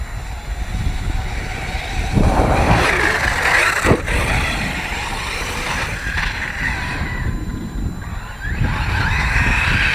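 Talion race cars running on 4S, with an engine roar that swells and fades across several passes, harsh and fairly close, with a brief sharp crack near the middle and no voices.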